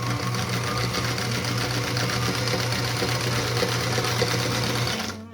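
A featherweight sewing machine stitches two cotton quilt triangles together, running as a steady, fast, close mechanical whir with no pauses.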